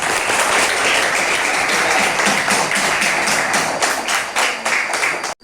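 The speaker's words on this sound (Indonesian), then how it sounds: "terima kasih semuanya, tepuk tangan" A class of students at a madrasah claps together during an Islamic history lesson. The applause is loud and continuous, then cuts off abruptly at the end.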